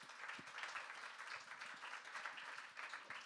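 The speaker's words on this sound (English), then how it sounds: "Round of applause for Luke." Audience applause for a guest speaker at a breakfast talk event, a steady wash of many hands clapping that carries evenly throughout without pause.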